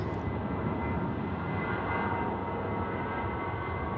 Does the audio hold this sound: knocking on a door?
no